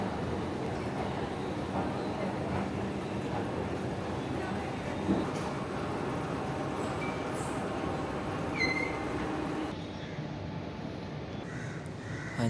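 Ambience at Thampanoor railway station in Thiruvananthapuram, a busy station with five platforms: a steady wash of distant crowd and rail noise with crows cawing nearby and a few brief high squeals, fairly faint throughout.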